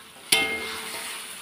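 Mushrooms stir-fried in a pan: a sudden loud sizzle bursts in as they hit the hot oil, then settles into a steady crackling fry with faint stirring, close by and alone.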